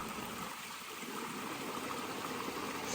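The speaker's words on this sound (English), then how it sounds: "It looks like over there we've got some good stream of water. So the water is still going into this" Storm runoff streams steadily into a dug sump, giving a continuous, even rushing and trickling wash of water with no talking, heard close by.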